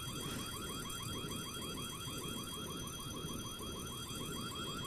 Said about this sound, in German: Dann mit noch diesen dämlichen Alarm